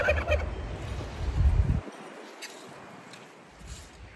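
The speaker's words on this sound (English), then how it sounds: "You hear these birds? They're crazy. Every time I move or talk, they gotta go" Farm turkeys gobble in a loud, fast, rattling burst close by, then the calls break off, leaving a quiet farmyard with a few faint bird calls afterward.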